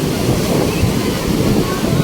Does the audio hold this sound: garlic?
no